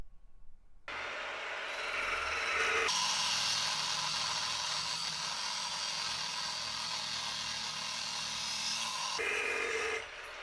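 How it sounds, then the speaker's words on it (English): A cold saw cuts through welded steel sections, a loud, steady high-pitched grinding whine that runs unbroken for about six seconds after the blade bites, with motor hum before and after the cut. "We're just going to cut them in our fine slugger cold saw."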